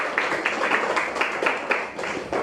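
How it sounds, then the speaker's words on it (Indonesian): A small group claps together in a classroom-style session, a few seconds of brisk, loosely synchronized clapping close by with no talk over it. "kita beri tepuk tangan dulu buat kita semua"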